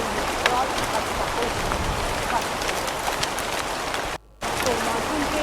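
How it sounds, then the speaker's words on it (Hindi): Heavy monsoon rain pours down steadily near a river approach road, a dense continuous hiss of falling water that fills the scene at close range, briefly broken by a short gap. "इस साल मानसून की पहली बारिश हुई है"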